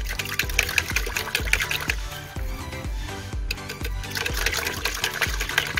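Masterblend hydroponic nutrient powder is stirred into water, giving repeated sloshing, swirling and clinking strokes in an even rhythm, close and moderately loud, with no talk.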